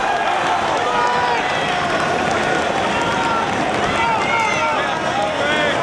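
A professional wrestling arena crowd roars and screams steadily throughout a submission hold, a dense, sustained wash of noise. A commentator talks over it.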